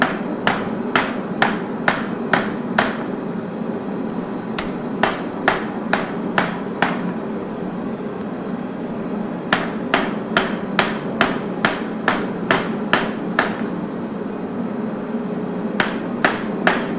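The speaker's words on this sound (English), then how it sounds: "your steel's forging fantastically" A hammer strikes steel at a forge in sharp, evenly spaced metallic blows, coming in quick bursts separated by short pauses, close and loud over a steady background hum.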